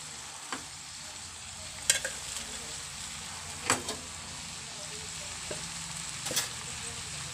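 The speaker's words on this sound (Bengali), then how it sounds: "বাঁধাকপিটা দিয়ে আবারও ভালো করে আমি 15 থেকে 20 মিনিট কষিয়ে নেব।" Mutton masala with cabbage being stir-fried for a Hyderabadi curry, with a quiet steady sizzle broken by a few sharp spatula scrapes and knocks against the pan.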